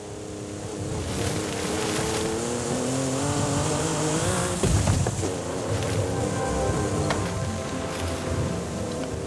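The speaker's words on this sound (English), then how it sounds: "I don't think this car is 4x4, so we are destroying this poor thing." A video game car that is not four-wheel drive drives off the road into a ditch, its engine roaring loud and steady throughout with a brief rougher burst midway.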